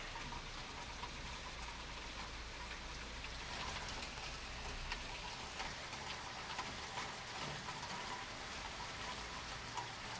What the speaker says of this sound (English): you can see that there's rain, and it is getting pretty wet.